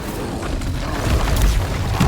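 An Incendio fire spell is cast in a Harry Potter video game, a loud, rumbling, whooshing burst of flame that swells and builds to a deep boom, with no voices.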